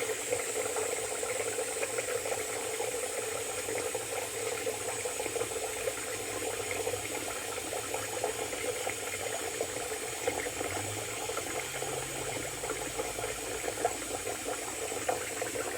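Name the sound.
filling basin with water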